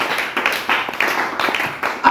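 A church congregation clapping and applauding in praise, bursts of hand claps under a voice speaking.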